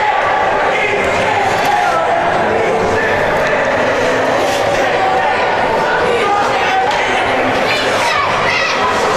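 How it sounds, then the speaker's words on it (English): Sports match crowd chanting, a loud continuous roar of many voices rising and falling together across a stadium, filling the whole stretch with no single voice standing out. "The crowd's starting a few chants off."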